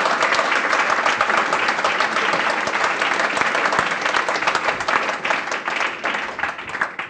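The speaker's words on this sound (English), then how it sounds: "I want to please give a round of applause to Amy and" A large audience gives a sustained round of applause after a healthcare talk, loud dense clapping that carries evenly throughout and tapers slightly near the end.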